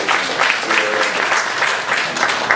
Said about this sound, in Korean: 잠깐 일어나서 우리 격려하시고 박수 한번